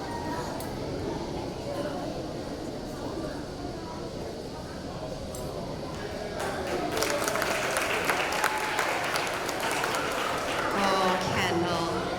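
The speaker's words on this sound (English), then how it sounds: "Big round of applause." A crowd at a school reading challenge event applauds with steady clapping that grows louder and fuller partway through, with voices talking and cheering underneath.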